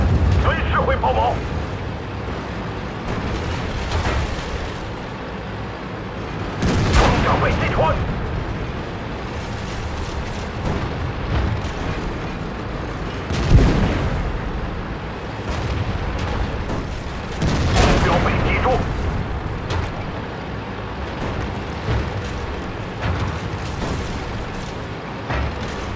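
Tank cannon shots and heavy explosions in T-34-3 tank battle game combat, several loud booming blasts spaced across the stretch over a rumbling background, with a voice talking in between.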